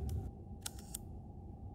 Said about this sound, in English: I'm going to always test fire the shutter.